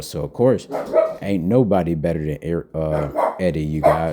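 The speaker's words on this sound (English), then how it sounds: "Excuse my dog in the background" A dog barks in the background while someone talks nearly nonstop over it, the barks partly buried under his voice.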